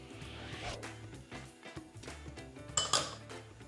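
Cumin powder, liquid soy, olive oil and honey mixed together in a bowl, giving soft scraping and clinking of a utensil against the dish, with a louder cluster of clinks near the end.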